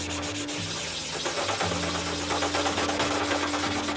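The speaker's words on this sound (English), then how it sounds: "I want it to be sanded smooth, and I don't want any flaws" Steady sanding of a model airplane wing, a continuous close rasping rub with a low motor-like hum underneath, no talk.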